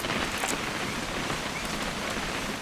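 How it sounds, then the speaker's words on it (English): Steady, dense rain falls in the video game What Remains of Edith Finch, a continuous hiss of drops hitting surfaces, loud and even with no voices. "It's gonna rain the whole weekend, isn't it?"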